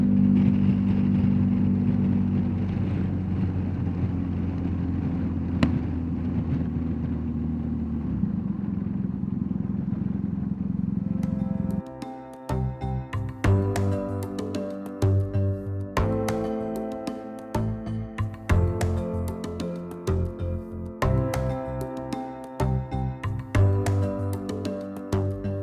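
A BMW motorcycle carrying two riders cruises alongside a German autobahn. A steady engine and wind roar shifts partway through into a choppier, pulsing drone with clattering bursts, loud and close, with no talking.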